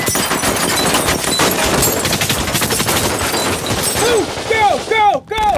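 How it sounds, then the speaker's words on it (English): Sustained gunfire crackles as French special forces evacuate passengers from a hijacked Air France plane, a dense, rapid fusillade up close followed by sharp whistling tones near the end, with no speech. "the French Special Forces is evacuating the passengers through a hail of gunfire"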